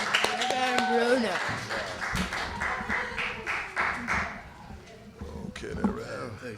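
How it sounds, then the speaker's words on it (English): An audience at a library poetry reading claps for a reverend about to read, a scattered patter of hands under someone speaking loudly. "Let's give Reverend Bertram Bruno a round of applause, man"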